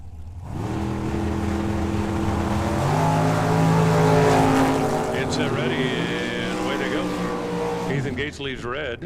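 Front-engine drag race cars at the Hangover Nationals launching from the line, a loud sustained engine roar that builds and shifts pitch, with a commentator talking over it.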